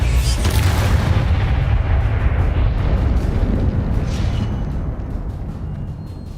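A fire spell in Hogwarts Legacy erupts with a loud deep whoosh and rumbling burst that holds steady, then slowly fades away with no talk.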